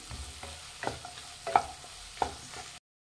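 Cashews and turmeric are stirred in a frying pan while cooking Paneer Butter Masala, with a few scraping strokes of the spoon and light clicks over a soft sizzle.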